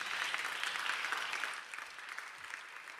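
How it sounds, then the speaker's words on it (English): An audience at a panel discussion on sustainable, inclusive recovery from COVID-19 gives a round of applause, a soft, even clatter of many hands from a distance that thins and quiets after the first second and a half. "I'd invite the audience to give our panel a huge round of applause."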